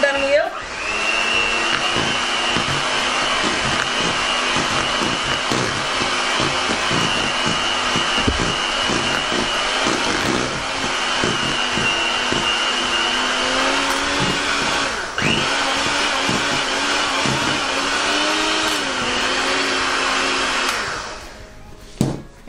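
An electric hand mixer whirs steadily through muffin batter made with milk, a loud continuous motor whine with slight pitch wobbles as it works, running for about twenty seconds before cutting off.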